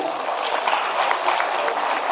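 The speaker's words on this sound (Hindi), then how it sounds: "जोरदार ताली।" Applause from an audience at a government ceremony in Patna where teachers receive appointment letters; a steady, dense wash of clapping held at an even level for the whole stretch, with no voice over it.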